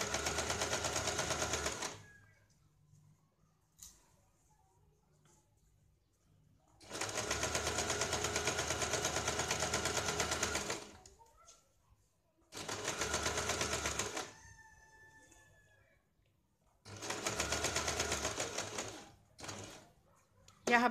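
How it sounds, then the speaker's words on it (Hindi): A sewing machine stitches along the edge of a square blouse neckline in several sustained whirring bursts of a few seconds each, close up, separated by pauses of quiet handling. "फिर इसके ऊपर किनारे पे सिलाई लगानी है।"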